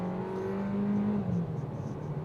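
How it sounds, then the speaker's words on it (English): Kia Seltos SX Turbo engine accelerating in sport mode, a rising hum climbing in pitch over about two seconds, with little exhaust note, heard from inside the car. "Again, the engine wakes up"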